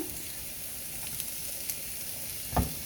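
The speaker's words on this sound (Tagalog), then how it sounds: "halu-haluin ng kaunti hanggang sa maging brown ang ating sibuyas at bawang" Onion and garlic fry in a little oil in a pan, a faint steady sizzle and hiss with a few light ticks and one louder knock or stir near the end, heard up close without speech.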